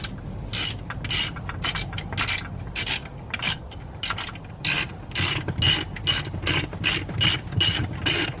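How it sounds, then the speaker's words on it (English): A half-inch drive ratchet cranks a custom scissor jack built for a Mitsubishi Starion, its pawl clicking in rapid bursts of repeated strokes with short pauses between, close and fairly loud, with no talking. "So you can use a 1/2-inch drive ratchet or cheater bar."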